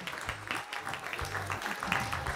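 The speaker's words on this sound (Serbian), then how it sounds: "Pravi je trenutak da naše drugare pozdravimo jednim velikim aplauzom." Applause from an audience for participants at an inclusive cooking workshop, a dense, steady clapping that carries on loudly for the whole stretch.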